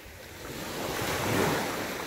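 Ocean surf rolling in, a steady broadband wash that swells gradually and peaks near the end, with some wind noise over the microphone.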